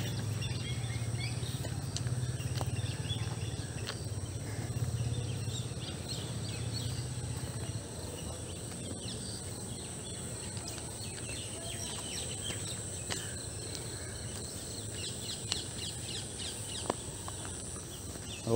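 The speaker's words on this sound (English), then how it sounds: "birds are singing and we are walking along the railway track here." Birds sing faintly in a jungle beside a railway track, scattered chirps over a soft, steady insect hum and low background rumble, with no talking.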